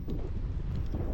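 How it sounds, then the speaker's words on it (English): Strong wind buffeting the microphone beside a bridge near a pump station on a fishing bank in Metairie, a low, rumbling gusty roar, continuous and fairly quiet, with no speech. "It's too windy today"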